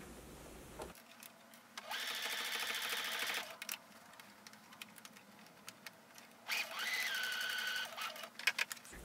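A domestic sewing machine stitching a gathered ruffle tier onto a dress or skirt, running in two steady whirring bursts with brief pauses and small clicks between them, close and fairly quiet, with no voices.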